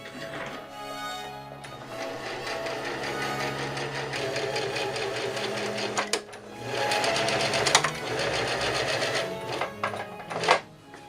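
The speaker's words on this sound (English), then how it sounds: "now I'm going to be sewing together the front piece with one of the side pieces" A sewing machine stitches a corset front piece to a side piece, running in steady fast whirring bursts with brief pauses and a sharp click near the end, close and fairly loud with no talk.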